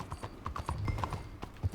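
Horse hooves clip-clop in a quick, steady rhythm at moderate distance in the video game Red Dead Redemption 2, with a faint snort among the footfalls.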